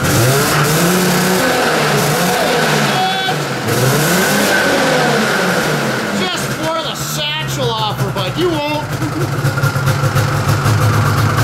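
A car engine runs loudly and steadily, its pitch swelling and dipping as it revs, with voices talking over it.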